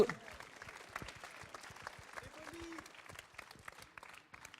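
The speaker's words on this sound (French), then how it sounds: "Applaudissements" A crowd at a Counter-Strike: Global Offensive esports final applauds: scattered, fairly distant clapping with distinct individual claps, quiet overall, mixed with a speaking voice.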